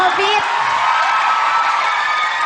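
A live crowd cheers, screams and whoops for a singer, a loud, dense and continuous roar of many voices without a break.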